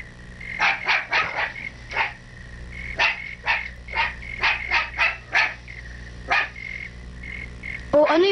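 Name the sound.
dog barking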